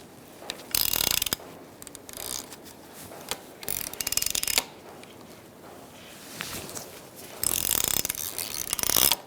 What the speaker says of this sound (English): I'm using a 10mm socket on the inside and a 21mm socket tool